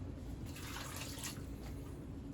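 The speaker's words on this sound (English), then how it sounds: "we'll fill up your can just a little more than halfway with just some normal water" Plain tap water pours into a can for a pot roast, a steady faint splashing and trickling fill that runs continuously, alone with no talk.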